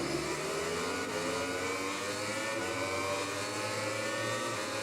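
MotoGP motorcycle engines rev hard together at the start of a race in Argentina in the video game MotoGP 20, a steady, high, buzzing drone of rising pitch that holds throughout with no talk.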